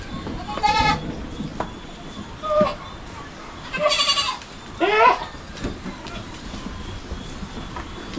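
Goats bleating on a farm, several calls at varied pitches, some close and others farther off, over a steady low outdoor rumble.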